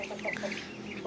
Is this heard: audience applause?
no